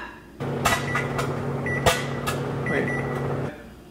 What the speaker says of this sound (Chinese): 你就把它放进去，微波炉差不多45秒